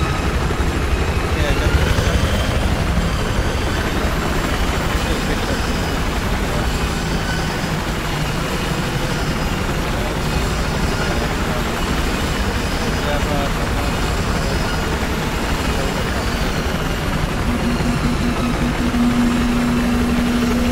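A helicopter engine in the video game Battlefield 4 drones steadily throughout, a dense continuous whir that stays loud from start to finish.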